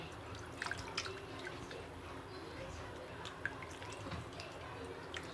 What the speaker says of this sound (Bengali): পরিষ্কার পানি দিয়ে সুন্দর করে তালটা আগে ধুয়ে নেব